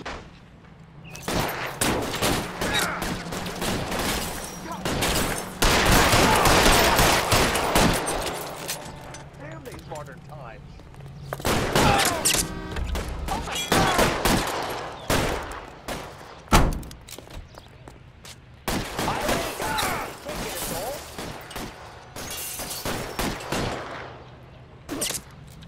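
Repeated gunshots and bursts of gunfire in the L.A. Noire video game during a shootout with security men, loud volleys in several clusters across the scene, with game voices speaking between the shots.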